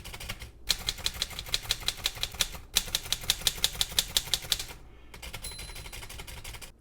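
Keys and space bar being tested on a restored Corona Four portable typewriter: two long runs of rapid, sharp mechanical key strikes, separated by brief pauses with a heavier thunk, close and crisp, no speech.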